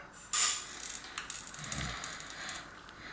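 Bolts being tightened on a mountain bike wheel during a 26-inch to 700c wheel conversion, giving a sharp metallic clack followed by a run of quick ratcheting clicks and mechanical rattles, close up with no talking.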